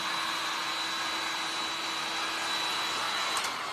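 Close, loud hair dryer drying paint on a planter, a constant airy whoosh with a steady high whine and no pauses.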